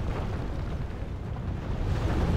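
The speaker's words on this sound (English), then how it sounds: "I'm hoping that we're doing a decent amount of damage per shot with my cannons." Cannons fire during a Total War video game battle, producing dense, continuous booming rumble with a muffled battlefield roar throughout.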